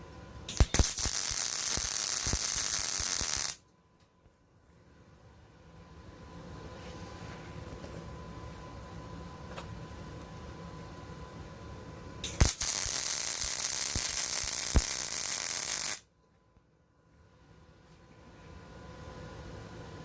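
A Yeswelder MIG-Pro250 MIG welder lays a bead in two bursts of dense, steady arc crackle, each several seconds long. A quieter stretch of low hum and shop noise separates them.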